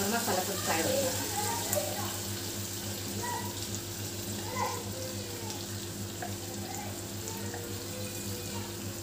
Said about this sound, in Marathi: मसाला पण टाकून घेते, त्याच्याबरोबर मसाला पण फ्राय होईल